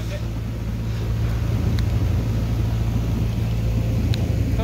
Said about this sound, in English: So we got the 90 horsepower tractor.